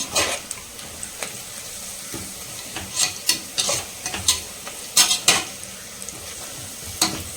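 Onions sautéing in a pan for biryani, browning: a continuous soft sizzle broken by repeated sharp scrapes and clacks of a spoon stirring, close and clear, with no talking.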